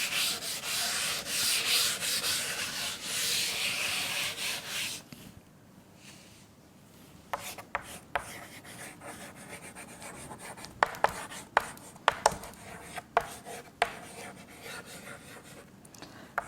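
Chalk or marker scrapes across a classroom board as an English teacher writes, first in a long continuous rubbing stroke, then a pause followed by short scratchy strokes and sharp taps, close and clear.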